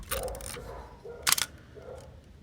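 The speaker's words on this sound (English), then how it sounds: "on the bulb mode it's a bit lazy, but it still works, it still closes down." Zenit E Russian SLR film camera shutter firing in bulb mode, a sluggish close-up mechanical clunk followed a moment later by a sharper snap as the shutter closes, then faint handling noise.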